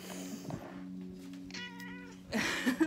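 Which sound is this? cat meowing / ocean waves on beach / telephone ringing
cat meowing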